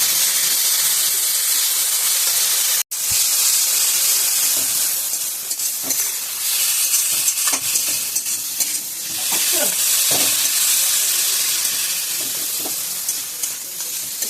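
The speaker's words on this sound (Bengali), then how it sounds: "এটা খুব ভালো করে কষাবো।" Fish roe masala with fried potatoes is stirred in a hot pan, a loud continuous sizzle and hiss with scraping spatula strokes throughout and one sharp break early on.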